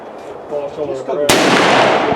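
A percussion smoothbore single-shot pistol fires once, a single loud, sharp blast with a lingering boom, following a moment of people talking nearby at an outdoor shoot.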